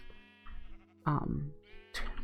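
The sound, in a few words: sheep bleating in Minecraft video game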